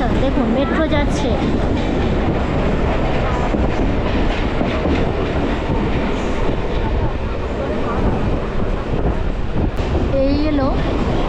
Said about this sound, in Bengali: দেখুন মেট্রো যাচ্ছে।